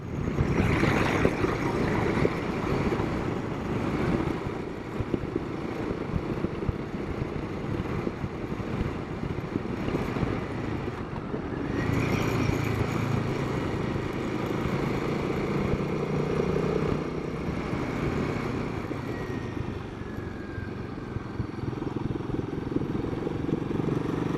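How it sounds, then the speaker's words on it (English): Royal Enfield Himalayan motorcycle engine lugging slowly in fourth gear along twisty hill roads, giving a steady, unbroken low rumble close by for the whole stretch with no talking. "This Himalayan has plenty enough torque to just crawl along here in 4th gear."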